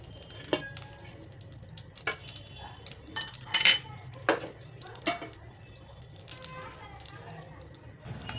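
Cashews and halved almonds fry in hot ghee with a faint, soft sizzle, punctuated by intermittent scrapes and clinks of a spoon against the pan, recorded fairly quietly.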